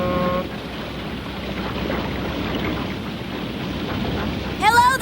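A low, churning rumble of a large vessel's engine and water wash continues steadily, with a brief tonal whistle near the end.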